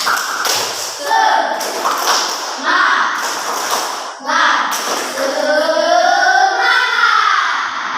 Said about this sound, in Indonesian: Kita tepuk dulu, tepuk semangat.